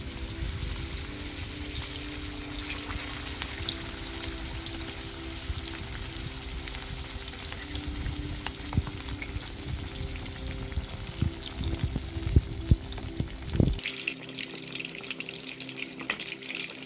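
Fish drops into hot oil in a pan and fries with a steady crackling hiss, broken by a few sharper pops and clatters before the sizzle settles quieter.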